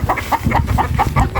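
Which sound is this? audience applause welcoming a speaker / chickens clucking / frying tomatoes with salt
chickens clucking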